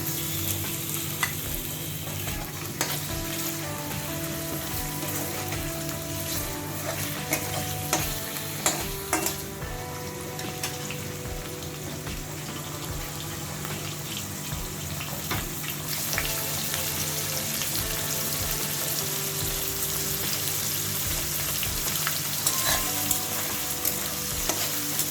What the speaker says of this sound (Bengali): পেঁয়াজ ভাজার এ পর্যায়ে আমি চিংড়ি মাছ দিয়ে দিচ্ছি।